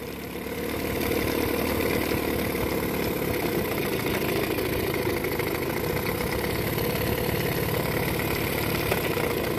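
A Johnson outboard motor undergoing water pump repair settles into a steady, close idle after a brief rise at the start, holding an even, throbbing engine drone with no talking.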